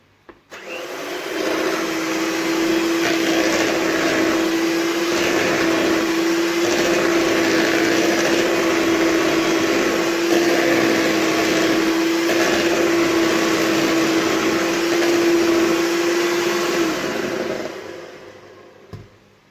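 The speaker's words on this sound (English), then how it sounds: "Now we're going to beat just the butter for a few minutes." An electric mixer beats butter in a bowl for a vanilla cake, a loud, steady motor whine with a constant pitched hum and grainy whirring that runs unbroken for most of the stretch, then cuts off.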